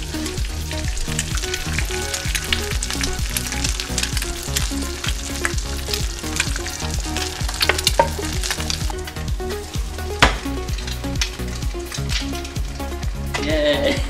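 An egg frying in a pan, a loud, continuous close crackle and spatter of hot fat with brief scrapes throughout.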